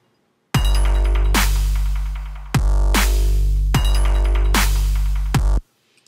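A track at the drop: heavy, loud electronic dance music with booming sustained bass and hard rhythmic hits repeating in a driving pattern, cutting off abruptly.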